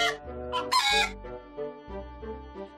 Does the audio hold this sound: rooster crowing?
yes